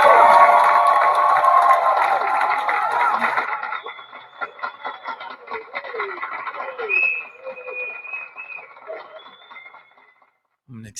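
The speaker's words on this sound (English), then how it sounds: "Let's give him a round of applause." Congregation at a live spirituality night program giving applause and cheers: loud crowd clapping and shouting at first, fading after a few seconds into sparse scattered voices and light noise.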